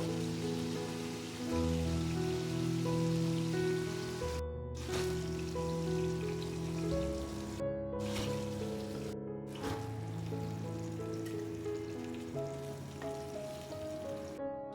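Fish fry lightly in hot oil for a Bengali curry, a soft, steady sizzle and crackle heard close up and alone, with a few brief quiet gaps.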